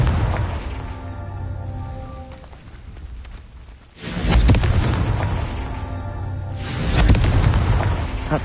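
Confringo fire spell explosions in Hogwarts Legacy, two heavy booming blasts a few seconds apart, each with a rumbling tail over a steady game-ambience background.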